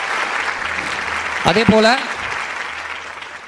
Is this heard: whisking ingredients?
no